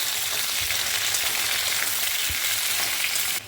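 Potato and aubergine pieces fry in a hot pan with oil, giving a steady, loud broadband sizzle throughout with a few soft low knocks, no voices, easing slightly at the very end.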